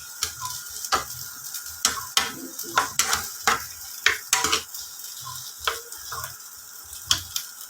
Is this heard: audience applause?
no